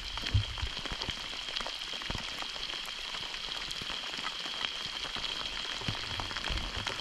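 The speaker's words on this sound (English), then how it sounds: "Rain only eased up for a second there. Now it's right back." Steady rain falls on a lake during a spring canoe trip, a close, even patter of drops with occasional louder splats, continuous throughout and with no voices.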